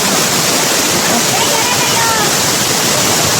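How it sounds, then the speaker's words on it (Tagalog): Tagbibinta Falls, a 120-foot waterfall, heard up close as a loud, unbroken roar of crashing water that fills every moment. "Yan yung Tagbibinta Falls."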